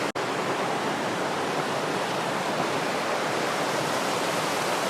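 A raging river rushes out of its source holes near Malham, a dense, steady roar of water that fills the whole stretch without a break, loud and close.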